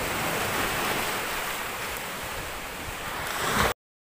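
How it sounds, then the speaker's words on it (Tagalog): Continuous wash of lake water and waves in strong wind, with wind buffeting the microphone, steady and close before cutting off abruptly. "Medyo malakas mga kabady yung alon dito sa lake."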